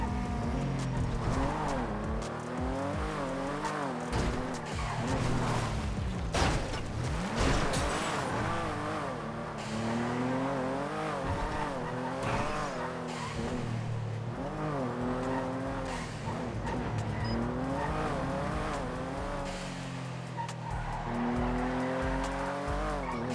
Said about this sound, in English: I saw a vehicle drive by and then I realized it's one of those club races.